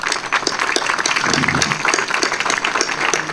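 Audience applause at the inauguration of a forest interpretation centre in Amarante, a crowd clapping steadily and close for a few seconds with no one talking over it.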